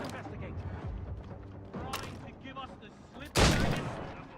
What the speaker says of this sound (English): Who's over there shooting me?